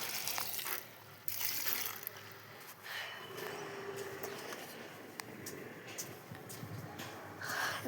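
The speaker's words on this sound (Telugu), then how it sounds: "నీళ్ళు మొత్తం కింద పోతుంది" Water runs off a terrace rooftop and spills down, a soft steady trickling and splashing heard fairly faintly with some shifting bursts and no speech.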